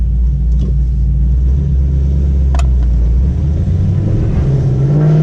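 Chevrolet Camaro with 391 gears pulls hard through first and into second gear, a loud steady engine roar rising in pitch, with a brief shift break partway through, close and alone.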